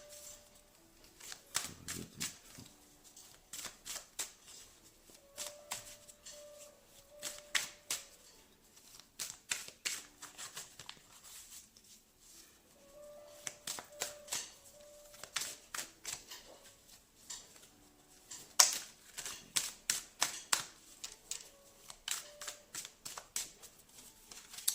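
Tarot or oracle cards being shuffled and pushed around on a table, soft repeated riffling snaps and slides arriving in bursts of rapid clicks, fairly close and quiet, with no speech.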